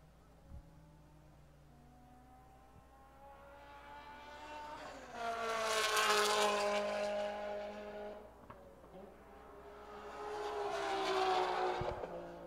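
A race car laps at a Global Time Attack event at Buttonwillow, its engine note rising as it approaches, swelling loudly as it passes, fading, then building again, heard from trackside at a distance.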